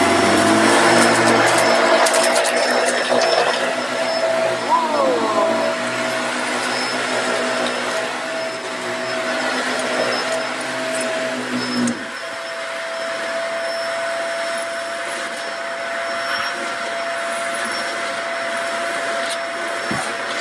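A BISSELL 27909 Pet Hair Eraser Turbo Rewind vacuum runs with a steady, loud motor whine and airy roar, then drops to a lower, quieter hum about halfway through.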